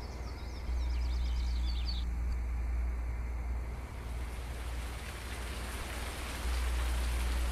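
Rain begins falling in the Farming Simulator 19 farm game, a steady broadband hiss of rainfall with a low rumbling undertone, continuous throughout and without any voices.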